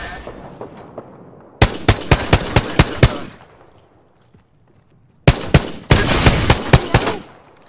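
Two bursts of rapid automatic gunfire in Apex Legends, each a loud run of sharp, closely spaced shots lasting about two seconds, separated by a quieter gap.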